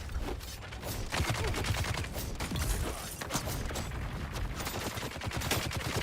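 Rapid gunfire in Dune: Awakening, dense bursts of shots crackling continuously with mechanical clatter throughout, fairly loud and steady.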